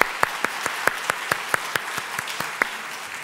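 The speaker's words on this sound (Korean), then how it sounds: "우리 다 같이 한번 크게 박수로 격려하고 축복하겠습니다." A church congregation claps to encourage its middle and high school youth groups during a late-night prayer service, with loud, rhythmic claps keeping an even beat over a softer bed of scattered applause.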